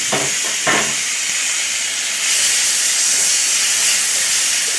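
Chopped tomato drops into a hot pan while making tomato buttermilk curry, followed by a few quick clinks and then a loud, continuous hissing sizzle that swells partway through. The sound is close, with no speech.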